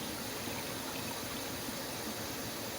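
Tap water from a city well supply pours steadily into a container for a two-gallon batch of mead, a constant rushing hiss with no talk.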